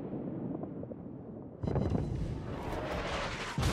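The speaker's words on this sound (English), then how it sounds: "All guns. Continuous fire on Jerry." Naval guns firing in World of Warships, a warship's battery opening up on an enemy ship; a steady low rumble turns into a louder burst of heavy gunfire about halfway through, then continues as sustained booming.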